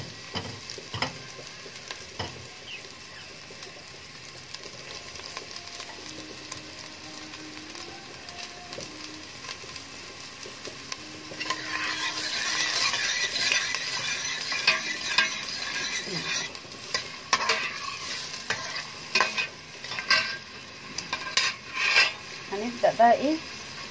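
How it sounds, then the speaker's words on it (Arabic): Onions fry in melted butter in a pot, starting as a quiet low sizzle with a faint mechanical whir, then growing into louder crackling and spatter with scraping stirs and utensil knocks, close by, without speech. "حطينا الزبده اهي تافت، وهنبدا ايه نحمر البصل"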